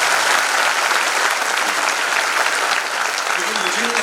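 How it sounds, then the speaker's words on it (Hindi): Loud, dense applause from a large seated audience at a staff speech event, steady clapping filling the hall for several seconds with no voices over it. "मैं चाहता हूँ उनके लिए एक बार जोरदार तालियां बजा दीजिए।"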